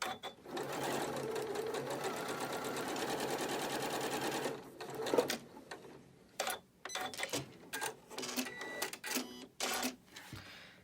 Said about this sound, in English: Let's go ahead and sew this.